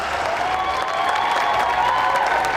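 An audience at a geek convention cosplay contest applauds steadily, a dense wash of clapping with some crowd cheering, loud and sustained with no clear talk.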